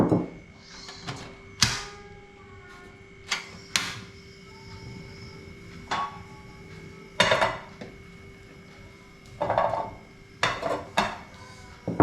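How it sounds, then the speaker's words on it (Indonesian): Turmeric being dry-roasted in a pan while making rendang, with scattered sharp clinks and scrapes of metal against the pan, irregular and close, over a quiet steady background hum. "Oke, kita mulai menyangrai kunyitnya."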